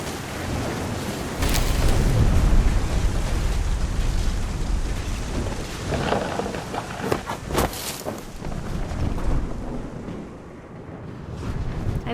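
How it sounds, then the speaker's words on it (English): Thunderstorm with rain in the video game What Remains of Edith Finch: a steady loud rush of rain and wind with deep rumbling thunder swells and a few sharp cracks, no talking. "The thunder sounded much too close and full of angry power"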